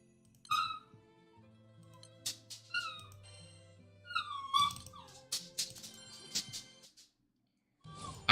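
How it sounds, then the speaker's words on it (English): Small dog whimpering and yipping indoors in short high-pitched cries and squeaks, scattered in bursts with brief pauses, fairly quiet and close, some soft background sound underneath. "I really hope the doggy it's not too annoying"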